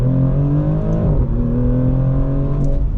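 A Maserati GranTurismo Trofeo accelerates hard, its engine note loud and close, climbing in pitch and then dropping briefly at a quick upshift before climbing again, heard with no talking.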